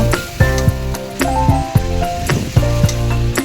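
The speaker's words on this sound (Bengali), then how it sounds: "এবার জল দিয়ে দেব। জল দিয়ে ভালো করে মশলাটা করে নেব।" Water poured into a frying spice masala with green chillies for an Indian egg and potato curry hisses and sizzles loudly up close, with a steady crackling spray under faint tonal background music.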